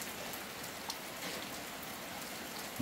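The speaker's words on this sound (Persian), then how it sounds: "یه بارون خیلی خوب داره میباره" Steady spring rain falling at night at a remote rural home, an even, soft hiss of drops on surfaces, fairly quiet and continuous with a couple of closer drips, no voices.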